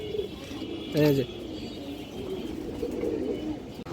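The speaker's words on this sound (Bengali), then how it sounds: "দর্শক এইখানে কিছু বাচ্চা কবুতর আছে মাশাআল্লাহ" Young home-bred pigeons give a single short, close coo amid a person talking, with faint background hum around it.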